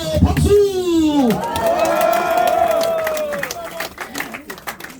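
Crowd at a Korean election campaign launch rally cheering and clapping, with shouts and a loud voice over it, settling into scattered applause and chatter.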